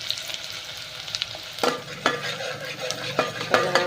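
Onion fries in oil with cinnamon and cloves in a pan, a steady close sizzle broken by several sharp scrapes and clinks of a spoon stirring against the metal.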